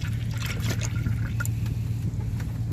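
Coolant pours steadily into a Ford Explorer engine during a thermostat housing replacement, a continuous close trickle and splash over a low background hum.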